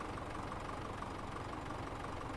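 Tractor engine in Farming Simulator 17 idles with a steady low rumble and faint knocking texture, constant and fairly quiet, no voices present.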